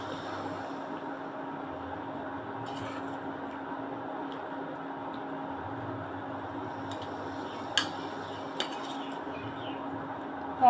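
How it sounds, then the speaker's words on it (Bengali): Jaggery being stirred into a pot of mango pickle made from a kilo of mangoes, giving a steady soft scraping and squishing with a few faint clinks of the spoon against the pot. "এবারে গুড়টা মিশিয়ে নেবো।"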